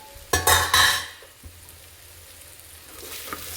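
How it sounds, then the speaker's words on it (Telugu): Lentils for ridge gourd dal fry in a pan, starting with a few loud scrapes of a spoon stirring against metal, then settling into a quieter, steady sizzle close by. "పప్పు బాగా వేగిపోయింది"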